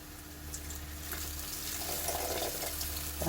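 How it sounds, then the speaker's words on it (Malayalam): Tamarind water is poured into a simmering okra and chilli curry, giving a soft continuous liquid trickle over a gentle background sizzle that swells slightly toward the end. "കുറച്ച് പുളിവെള്ളം ഒഴിച്ച് കൊടുക്കാനുണ്ട്."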